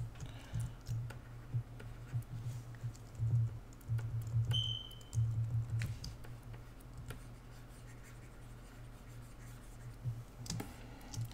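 Computer keyboard bracket keys pressed repeatedly while adjusting a digital brush size, giving soft, irregular clicks over a steady low hum, with a few scattered taps toward the end.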